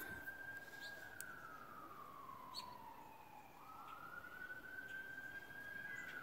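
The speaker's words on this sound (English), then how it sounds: "as more sirens fill the air" A wailing siren rises and falls in the distance, faint over a steady background hum.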